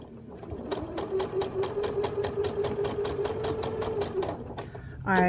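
A sewing machine runs steadily for about four seconds, stitching a long diagonal seam along a line on a quilt block with a rapid even needle rhythm, close and clear, then stops as a voice begins at the end.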